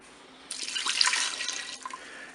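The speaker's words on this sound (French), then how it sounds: "je vais mettre mes 300 ml d'eau" Water poured into the pot of a Cookeo multicooker over potatoes, a steady splashing stream starting abruptly and running for about two seconds before tapering off, close and clear with no talk.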